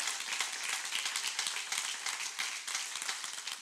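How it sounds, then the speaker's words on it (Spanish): An audience claps together in sustained applause at a church service, many hands filling the space with a dense, even patter that holds for several seconds. "Denle ese aplauso a él, claro que sí."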